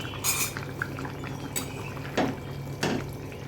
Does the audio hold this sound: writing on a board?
no